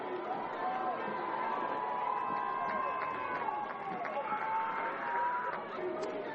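A college football crowd in Livingston roars and cheers steadily in the stands, a broad continuous wash of distant voices with a commentator talking over it.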